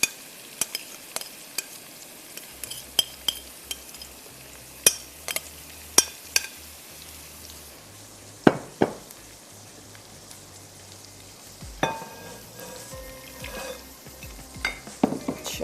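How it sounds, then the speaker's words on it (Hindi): Spice-marinated meat goes into hot oil left from frying onions, giving a faint sizzle under sharp, scattered clicks and scrapes of a spoon stirring in the pot. "सेम ऑयल हमने ले लिया जिसमें हमने प्याज को किया था फ्राई, और अब मैं इसमें शामिल करने जा रही हूँ मसाला लगा हुआ गोश्त"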